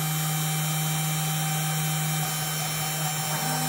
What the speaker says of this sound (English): now it's going to start cutting once it goes down.